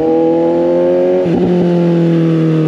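Straight-piped Suzuki GSX 750 motorcycle shifting gears without the clutch: a loud, steady engine drone up close, then a sudden clutchless upshift midway with a brief stutter before the note settles lower.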